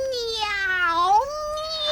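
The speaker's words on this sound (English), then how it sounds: "the cat meowed," A cat meowing as a storybook sound effect: one long, drawn-out, wavering meow, close and clear with no talk over it.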